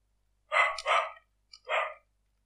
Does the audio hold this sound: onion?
no